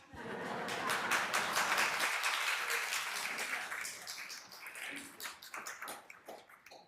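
Applause from an audience at a tribute event for Luis A. Gonzalez: a dense, steady wash of clapping for about five seconds that thins into scattered individual claps before fading out.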